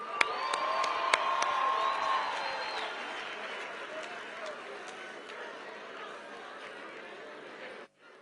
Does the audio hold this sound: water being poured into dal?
no